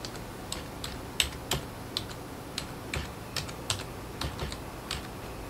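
Keys on a computer keyboard are tapped in an irregular, moderately paced series of light clicks over a steady low background hum, fairly faint and without speech.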